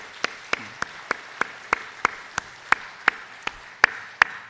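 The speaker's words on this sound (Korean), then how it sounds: "우리 박수로 한번 격려합시다." Church congregation claps together in steady unison, about a dozen crisp, evenly spaced beats against a quiet background.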